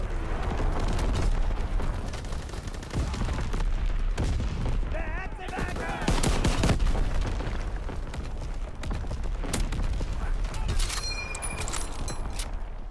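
An artillery barrage called in as a killstreak in Call of Duty: WWII multiplayer, with dense rolling booms and blasts filling the whole stretch alongside constant gunfire and game noise.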